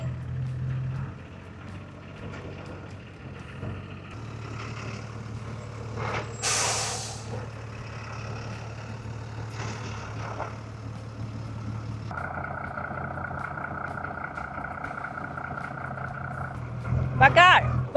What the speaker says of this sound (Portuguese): Ó, tem um caminhão azul.